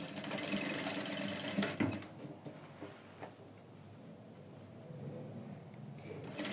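A sewing machine runs steadily while stitching the inside of a trouser pocket, a soft continuous mechanical whir with some faint clicks, fairly quiet and close, no talking.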